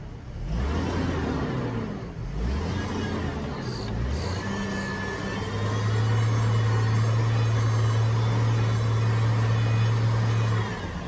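A Chevrolet Trailblazer engine runs with its air filter removed, revving up and down in a few swells before holding a steady, loud drone at raised RPM, close by and without talking.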